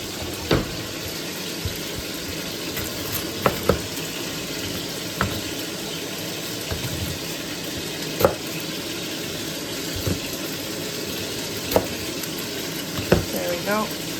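A chuck roast browning in a pan gives a steady, loud sizzle throughout, broken by occasional sharp clicks and taps. It runs continuously with no pauses.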